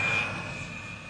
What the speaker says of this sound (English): Embraer 175 having landed just now